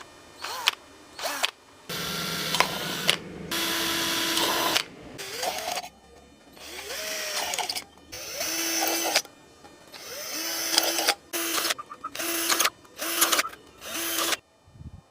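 A 2 mm bit drills a series of holes into a metal paint tin: repeated short bursts of power-drill whine, each a few seconds long, separated by brief pauses, close and loud.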